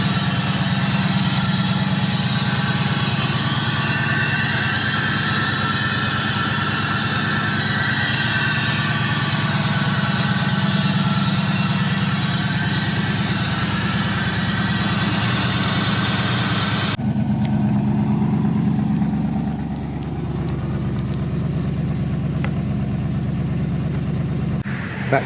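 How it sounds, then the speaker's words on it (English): A Pontiac Trans Am GTA engine idles under the open bonnet, a steady low rumble that continues throughout before the sound shifts partway as the recording moves, with no talking. "I'll just show you the under the bonnet and show you what the engine's like."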